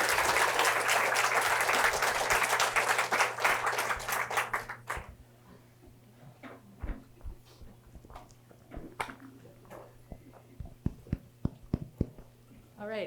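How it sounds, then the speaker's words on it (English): Audience applause for guest speakers at a Native artist series event in an art museum, loud dense clapping for about five seconds that cuts off, followed by quiet room noise with scattered knocks and faint voices. "Can we give another round of applause to our guests,"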